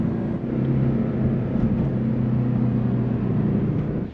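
A Jeep engine idles for a Mount Bromo sunrise tour, a loud, steady low rumble with a constant droning hum and no breaks.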